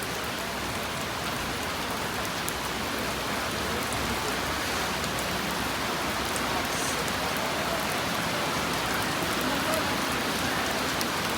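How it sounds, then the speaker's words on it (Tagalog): Steady rain pouring down during a flood in Quezon City at night, a loud, dense, unbroken hiss of falling water close by. "umulan na naman ulit"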